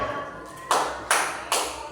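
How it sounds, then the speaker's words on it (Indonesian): A group claps the tepuk semangat pattern in a classroom: three sharp, loud broadband claps in unison, evenly spaced about 0.4 seconds apart, with a faint ringing tone beneath. "Tepuk semangat."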